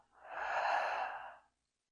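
A single deep, slow breath out during a yoga session, a soft airy sigh close to the listener that swells and fades over about a second and a half, then silence.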